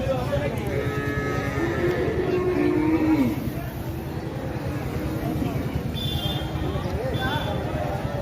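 At a busy 2024 Qurbani cattle market, a cow lets out one long, low moo lasting a few seconds, close and loud, followed by steady crowd bustle and voices.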